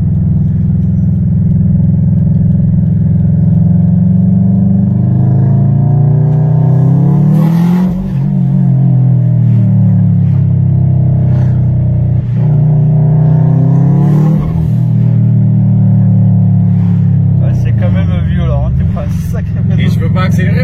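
Subaru Impreza WRX STI engine revving hard and close, its pitch repeatedly sweeping up and dropping back in several loud surges over a constant rumbling idle.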